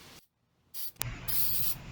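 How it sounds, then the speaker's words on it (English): Short hisses of a spray-paint can coating car hood vents, two close bursts separated by brief silence, with a quick click between them. "make sure to get your spray distance right and the thickness of your spray"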